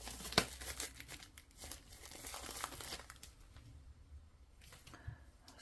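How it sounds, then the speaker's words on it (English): Cellophane wrapping crinkles and tears as it is peeled off a Fyodor Pavlov tarot card deck, in close, irregular bursts of rustling that build and then thin out, with no talking. "let's take the cellophane off then"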